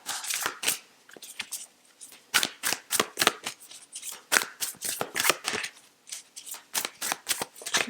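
Tarot cards being shuffled by hand, a rapid series of crisp riffling flicks and slaps in irregular bursts, close and clear with no talking.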